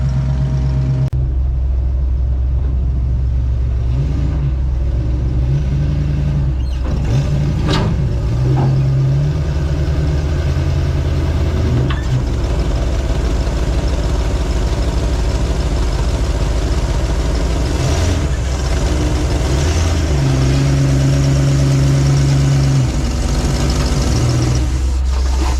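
Car engine idling and pulling up ramps onto a ramp truck, loud and close, with a low steady rumble, a few throttle blips and swells as it climbs, no talking.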